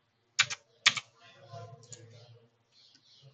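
A few sharp keystrokes clack on a computer keyboard while a command is entered at a command prompt, two crisp clusters near the start followed by a quieter stretch where someone speaks.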